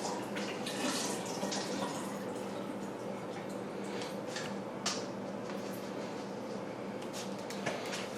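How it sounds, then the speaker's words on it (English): Soaked lentils are drained and rinsed under running water, which gives a continuous close splashing and trickling with scattered drips and light taps from the strainer. "I need to quickly filter the lentils, which I had soaking over in the corner"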